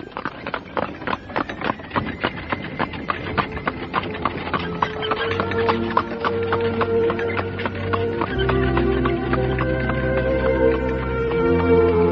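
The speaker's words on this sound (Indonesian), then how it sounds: "sebentar kemudian, mereka pun sudah berkuda meninggalkan desa Pasuruhan" Horses' hooves as riders set off on horseback from a village, a rapid, even clip-clop rhythm, close and fairly loud, joined midway by a low sustained musical backing.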